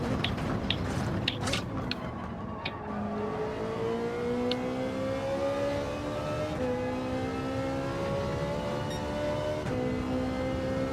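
A Ferrari race car engine in Gran Turismo 7 revs up and shifts through gears, rising whining tones climbing repeatedly over a dense, continuous roar, with a few sharp clicks near the start.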